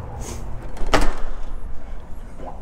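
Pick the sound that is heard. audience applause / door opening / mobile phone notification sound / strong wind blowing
door opening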